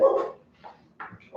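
Dog barking indoors during trick training, a few short barks and whimpers in a quick burst, fairly close.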